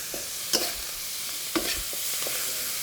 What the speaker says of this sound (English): Get those green beans kind of searing on a high heat